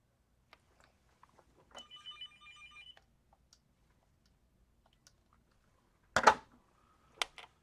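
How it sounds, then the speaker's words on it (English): A telephone rings during a live chess broadcast: one short electronic ringtone burst of about a second, fairly quiet, set among sparse clicks and followed later by a couple of sharp knocks, with no talking. "Phone was ringing."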